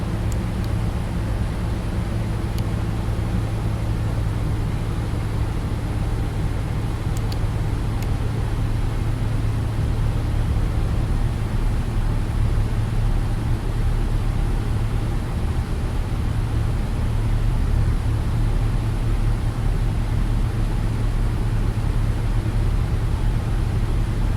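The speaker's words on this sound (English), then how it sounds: "here's engine number 1 starting" A Boeing 777 engine number 1 starting up in X-Plane 12's Flight Factor 777 (United), a steady, loud low roar and whine running unbroken throughout.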